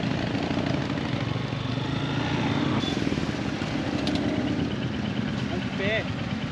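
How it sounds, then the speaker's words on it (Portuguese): Motorcycle engine running steadily at a rider training course, a continuous idling-to-low-revving drone throughout, with people talking over it. "Empinou ali, não foi, Thay?"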